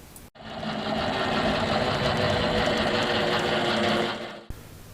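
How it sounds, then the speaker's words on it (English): A lawn mower's spinning blade gives a loud, steady mechanical whir close by, starting abruptly and cutting off after about four seconds. "The blade on this mower has a large amount of angular momentum and is difficult to stop."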